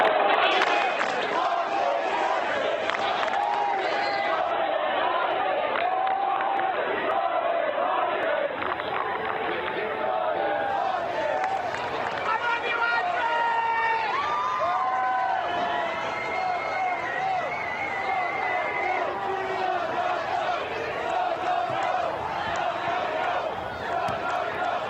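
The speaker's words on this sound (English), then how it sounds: "Let's listen into the crowd." Large outdoor crowd at the 2023 UConn basketball championship parade in Hartford, a continuous loud roar of cheering, shouts and chanting voices that swells and stays dense throughout, heard from within the crowd.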